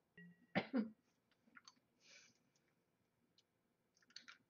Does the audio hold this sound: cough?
yes